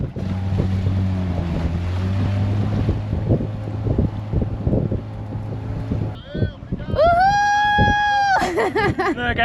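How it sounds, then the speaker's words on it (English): Wind blows across a sailboat at sea on a sunny day, a constant low buffeting rush with an engine-like drone beneath and water noise; a person speaks over it, and near the end a high tonal whistling squeal rises. "It's a sunny, windy day, which is going to be perfect for us to go up the island."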